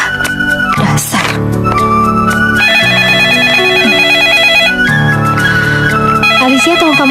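A telephone rings loudly and close with a bright electronic ringtone melody that repeats continuously.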